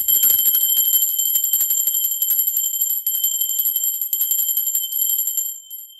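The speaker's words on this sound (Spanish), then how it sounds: "Va campana, seres divinos," A high, bright handbell rings rapidly and continuously, a sustained metallic trill with ringing overtones that fades near the end.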